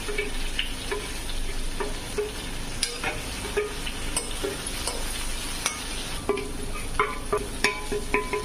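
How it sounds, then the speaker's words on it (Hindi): Spice tempering sizzles and crackles steadily in a hot pan for stuffed okra, with scattered sharp pops and stirring clinks throughout, heard close with no talking. "अब छौंक देते हैं बढ़िया।"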